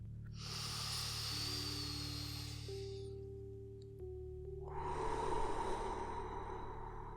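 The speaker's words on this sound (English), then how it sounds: "I want you to take a deep breath with me." Slow, deep breaths, a long airy inhale followed by a pause and then a long, fuller exhale, close and breathy over a low steady hum.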